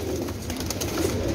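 Soft, low pigeon coos murmur continuously over a busy background hum, several birds cooing at once.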